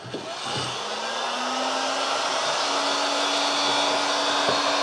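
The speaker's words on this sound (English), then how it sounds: "I grab my heat gun and I go ahead and prep the bed for the heat" A heat gun whirs up and runs at a steady, loud, close blowing roar while preheating a 3D printer heated bed, its motor pitch rising slightly as it gets going, with no talking.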